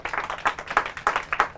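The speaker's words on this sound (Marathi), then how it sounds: "यांच्यासाठी पण टाळ्या" An audience claps for a school team at a student event, with scattered, uneven hand claps coming in soft bursts that rise and fall over a short stretch.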